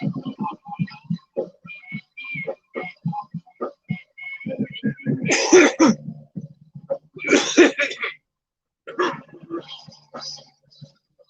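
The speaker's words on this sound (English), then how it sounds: "Got a cough to get off." Several bursts of harsh coughing and throat clearing come in separate clusters, loud and close, between stretches of casual talk.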